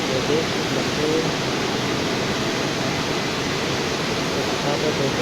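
An automatic car washing machine at a car service station sprays water over a vehicle in a dense, constant hiss that holds steady throughout, close and loud, with no distinct voices.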